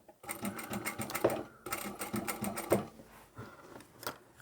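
A sewing machine stitches a two-tone leather and vinyl patchwork zipper pouch, running in a steady fast whirring rattle with short pauses and slight changes of speed, close up and without talk.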